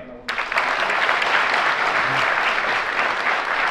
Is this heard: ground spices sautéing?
no